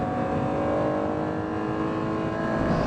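A first-generation Acura NSX with a naturally aspirated VTEC engine revs hard above 6,000 RPM, giving a loud, sustained howl close by with no talk over it.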